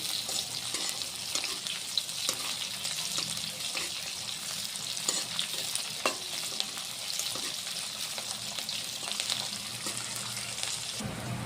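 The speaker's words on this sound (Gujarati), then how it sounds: "મરચાં કમ્પ્લીટ તેલની અંદર ફ્રાય થઈ જવા જોઈએ।" Green chillies frying in oil in a pan for a Gujarati suva bhaji, with a steady close sizzle and crackle running throughout and occasional stirring sounds.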